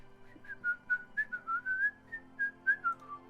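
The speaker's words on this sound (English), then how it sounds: "I'm able to whistle." A person whistles a wavering melodic tune, about a dozen sustained, sliding notes in a steady phrase over a low instrumental music bed, fairly close and clear.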